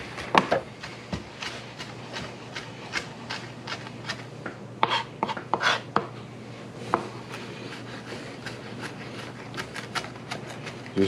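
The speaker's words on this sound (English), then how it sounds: "Just keep chopping it up until you get it fine as you want it." A kitchen knife chops ingredients for bruschetta chicken on a cutting board in irregular, fairly quiet taps and scrapes, some in quick bursts and others spaced apart, over a low steady hum.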